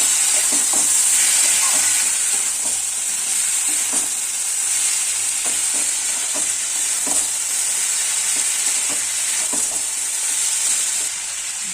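Green peas and spices sizzle and fry in a pan, a steady bright hiss with occasional stirring scrapes and clinks, close and continuous, with no speech.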